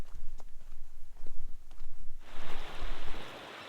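A mountain creek near a trail junction in the Australian high country, with footsteps crunching on the approach before a steady, close wash of flowing water takes over for the final second and a half.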